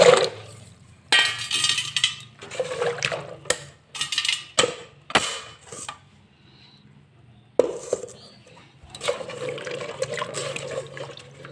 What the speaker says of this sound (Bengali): কুলগুলো প্রথমে আমি জল দিয়ে ভালো করে ধুয়ে নিই